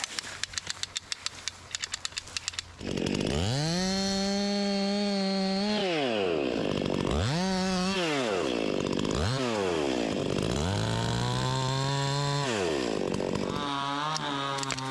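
A cheap, small chainsaw revs loudly and bogs down as it cuts through a skinny tree outdoors, its engine pitch rising and falling in several long sweeps after a rattly start.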